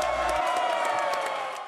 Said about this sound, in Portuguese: Essa levantou a torcida